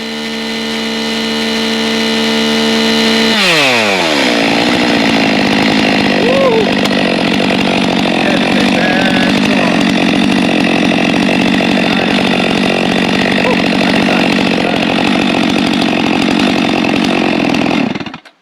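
Stihl MS 462 chainsaw with an M-Tronic carburetor, heard up close and loud: a steady high idle drops suddenly to a lower idle, then settles into a sustained engine drone with small speed wavers that runs to the end.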